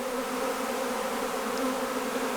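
A dense, steady drone of many honey bees buzzing close by, a continuous hum with no pauses and no voices.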